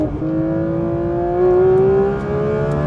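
A Porsche race car, a 963, accelerating on a road with a steady, smooth engine tone rising in pitch through a gear, heard from inside the car, loud and continuous with no talk.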